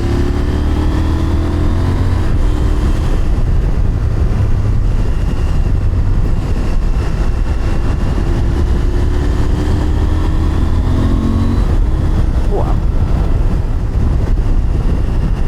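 A CFMOTO 1000 MTX motorcycle engine roars and climbs steadily in pitch through several gear changes, with strong wind rush throughout.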